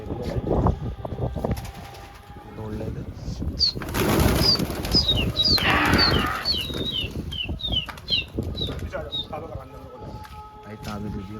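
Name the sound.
pigeon returning and flapping wings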